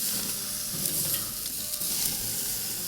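Steakhouse burgers sizzle steadily on a hot grill grate right after a flip, a loud close hiss of frying fat that continues evenly throughout without talk.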